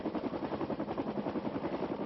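A helicopter flies over wooded hills while deploying fire hoses, its rotor chop a steady, continuous thrum at moderate distance with no pauses.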